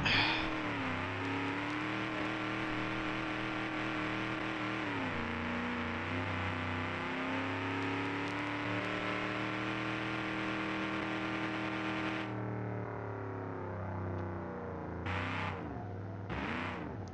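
Car engine revving while driving in the BeamNG driving game, a loud, steady engine drone with shifting pitch as the car is eased around corners, cutting down abruptly near the end with brief bursts after.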